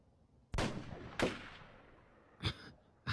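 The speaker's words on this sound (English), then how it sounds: "someone is shooting like crazy" Gunshots fired outdoors some distance away, three sharp cracks with echoing tails spaced unevenly over a few seconds, with another beginning at the end, and no voices.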